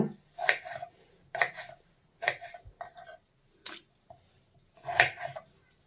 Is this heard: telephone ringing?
no